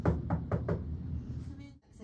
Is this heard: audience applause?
no